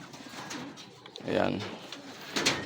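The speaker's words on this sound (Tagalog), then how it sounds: "meron na po tayong 4 na ibon na galing sa may Pongkan." Racing pigeons arriving at a loft after a derby lap race released from Pongkan in Nueva Ecija coo softly and repeatedly nearby, under a man's speech.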